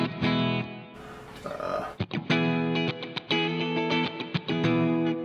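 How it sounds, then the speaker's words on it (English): Electric guitar played through a pedalboard on a clean tone with a little reverb, sustained chords ringing out and restruck in quick strums, with a brief noisy gap early on. "here's my clean tone with a little reverb"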